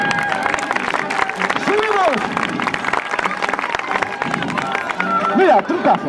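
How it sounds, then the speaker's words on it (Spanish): Crowd applause and cheering for a juggler performing at a medieval market in Mondoñedo, mixed with a performer shouting over the clapping and general crowd noise throughout. "¡Un aplauso!"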